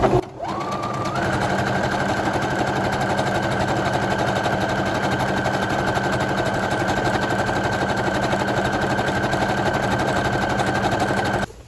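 A sewing machine runs a stretch stitch on a T-shirt, a loud, continuous fast mechanical whirr and rapid needle clatter that spins up at the start and holds steady close by.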